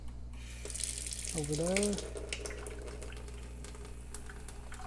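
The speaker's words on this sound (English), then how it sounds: "I'm gonna get my water running" Water runs from a tap in an indoor sink as someone prepares to clean coins, a low steady stream heard faintly under brief speech and a whistled tone.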